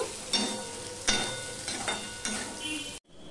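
Potato pieces with slit green chillies and salt sizzle in a covered pan, a steady crackle broken by several scraping stirs of a spatula before the sound abruptly cuts out.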